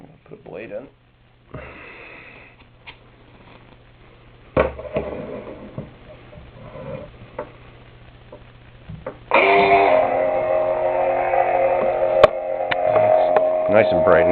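A toy lightsaber with its blade installed gives a steady electronic hum, quieter at first with sniffs and clicks over it, then swelling to a louder, brighter buzzing tone near the end.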